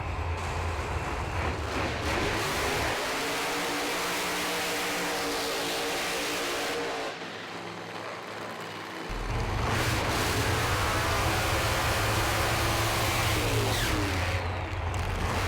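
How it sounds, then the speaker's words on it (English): Pro Alcohol drag racing cars roar through burnouts, engines held at a loud sustained howl with pitch sweeps, dipping briefly mid-way before surging back even louder, close and overpowering with no talk. "Good strong burnout from both competitors here"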